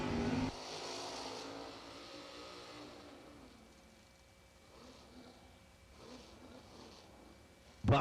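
Drag racing cars at a race: a sharp, loud blast of engine noise opens, then the roar drops back and fades steadily into the distance, with a brief loud burst at the very end.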